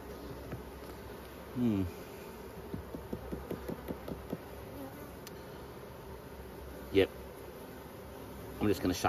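A sparse colony of honey bees in a failing hive hums steadily close up, broken by a few short rising buzzes and handling knocks, with a voice speaking briefly at times.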